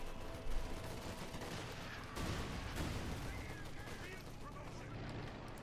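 Artillery guns bombarding in the Company of Heroes 2 strategy game, a dense rumbling barrage of booms and gunfire at moderate distance, continuous and low in level.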